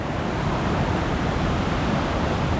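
A waterfall beside an old mill in Newcastle upon Tyne pours in a dense, steady rushing roar, loud and unbroken throughout, with no talking.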